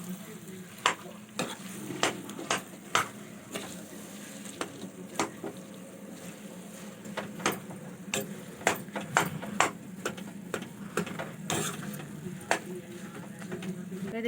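A spoon or spatula stirs and mashes potato masala filling for aloo paratha in a pan, with steady clicking scrapes against the pan in an uneven rhythm over a low hiss, close and moderately loud.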